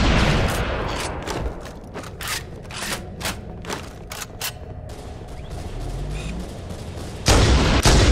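Rapid bursts of video game gunfire crack out in quick succession, sharp repeated shots over a busy low rumble of battle, ending in a louder sustained blast of noise.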